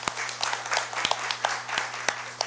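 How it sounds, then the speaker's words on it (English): Conference audience at an opening ceremony clapping for regional delegates, a moderate round of applause with a few sharp, close claps punctuating the steadier crowd clapping over a low hum. "Please give them a round of applause."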